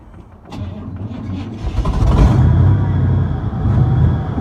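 A truck engine cranks on its starter after weeks of not running, a short stutter followed by a loud, rough churning that builds and holds close by, with a voice partly over it.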